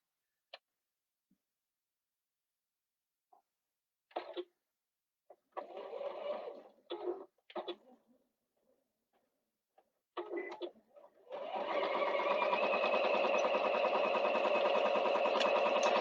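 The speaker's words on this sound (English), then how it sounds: "So I'm just going to sew that down, 1/2 an inch seam allowance." A sewing machine stitches down a quilting seam with a half-inch allowance, starting with short bursts and handling clicks, then running in a steady continuous hum for the last few seconds, close and clear with no talking.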